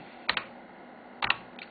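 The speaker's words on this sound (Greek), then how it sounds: "και πληκτρολογούμε" Keys on an Amstrad CPC 6128 computer keyboard are struck in two brief clusters of quick, close clicks with a short pause between them, faint and in a quiet room.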